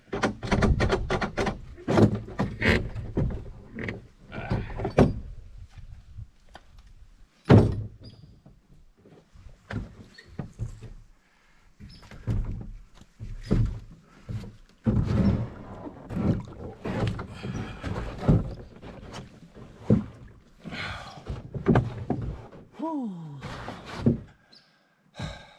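Clunks, thumps and scraping knocks as someone climbs into a small boat in Algonquin Park, with irregular bumps against the hull and creaks, some quiet pauses between.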